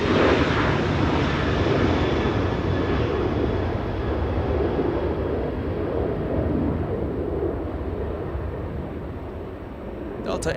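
The WestJet airliner Spirit of Canada departs LAX for Vancouver with a long, loud jet roar that gradually fades over several seconds, heard alone without talk.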